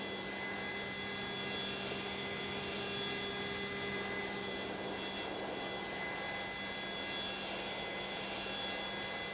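Inside the cockpit of a Boeing 727-200F freighter, one engine spools during start, a steady whine with fixed tonal hums layered over a constant broadband rush of aircraft noise.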